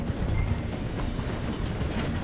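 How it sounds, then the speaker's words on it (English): A steam train in the Red Dead Redemption 2 game rumbles and clatters steadily as it slows through a station, a dense low continuous rolling noise with faint hoofbeat-like clicks and no talk. "The train is slowing down to go through the station."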